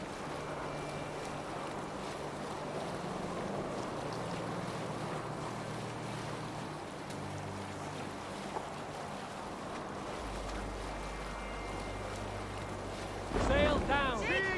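A Viking longship cutting through icy fjord water in Assassin's Creed Valhalla, with a steady wash of waves and wind rushing around the hull, then a brief burst of voices near the end.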